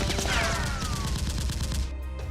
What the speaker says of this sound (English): The comrade returns fire.